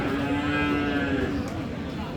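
At Aftabganj livestock market, where Friesian and cross-breed bull calves are sold, a cow lets out one long, loud moo nearby over a dense murmur of market crowd noise.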